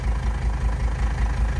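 A car engine idles steadily at around 800 RPM, fitted with an LS alternator, a continuous low rumble close by with no talking.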